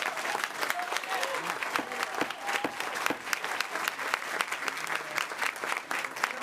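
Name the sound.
audience applause at county commission meeting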